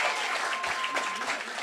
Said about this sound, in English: Can you guys give her another round of applause,